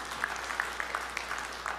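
A church congregation at a sermon claps for God, a short burst of scattered, moderately quiet hand claps with no talk.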